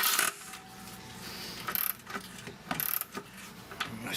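A small ratchet wrench loosening the battery terminal on a 2011 Chrysler 200, giving close, intermittent metallic clicks and scrapes in short bursts with quiet gaps, no speech.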